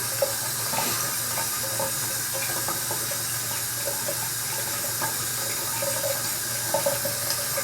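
Tap water runs steadily into a container, a continuous close splashing rush with slight fluctuations throughout.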